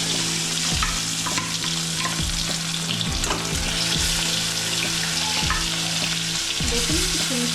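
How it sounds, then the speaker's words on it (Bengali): Shoal fish fry in hot oil in a wok, a loud, continuous sizzle close by, with repeated scrapes and knocks of a metal spatula stirring through it. "কড়াইটা আমার গরম হয়ে গেছে, আমি এবারে করে মাছগুলো ছেড়ে দিচ্ছি।"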